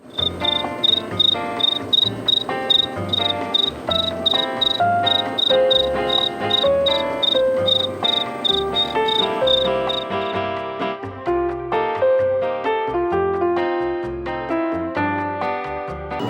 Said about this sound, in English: That cricket.